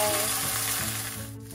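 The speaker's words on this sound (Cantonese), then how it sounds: "咁我咧就煎完2分鐘啦嗰邊，咁我反一反佢啦" Salmon pieces pan-frying, giving a steady bright sizzle with faint bubbling crackle, close and even throughout and fading slightly toward the end.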